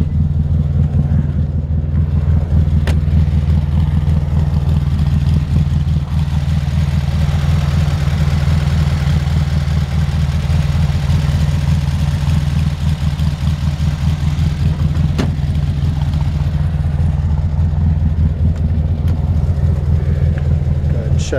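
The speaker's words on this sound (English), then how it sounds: "Let me let you hear the engine." A 1968 VW Beetle engine idles steadily with a low, even rumble throughout, loud and close, with no revving.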